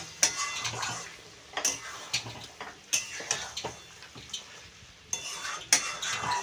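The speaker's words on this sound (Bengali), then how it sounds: "এটা বারবার নেড়ে নেড়ে আমি কষিয়ে নেব" Mutton being stirred and fried in a pot for a spicy curry: repeated scraping strokes of a utensil against the metal with clinks, over a soft background sizzle, close and rhythmic without speech.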